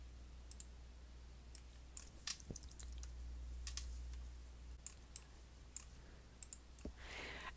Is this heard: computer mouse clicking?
yes